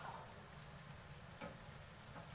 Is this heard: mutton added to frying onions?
yes